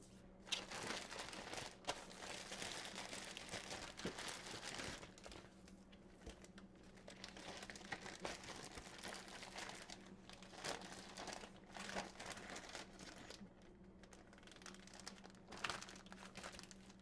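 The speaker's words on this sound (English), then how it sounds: "Now the crust will go into the bag. Zip it shut." A plastic zip bag crinkles and rustles in repeated bursts as a homemade pizza crust is slipped inside and sealed, close and fairly quiet, with brief pauses between handling.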